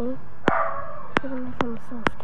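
A dog barks repeatedly in the background, several sharp yips with short howling tails, heard behind a person talking close up.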